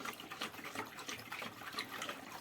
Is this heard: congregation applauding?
no